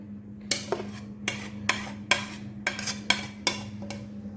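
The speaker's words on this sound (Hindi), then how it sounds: "अच्छी तरह ये सारी चीज़ें मिक्स कर देंगे" A spoon scrapes and knocks against a metal bowl while chicken is mixed with turmeric, red chilli, salt and dried coriander for a karahi marinade, about ten sharp clinks at an uneven rhythm over a steady low hum.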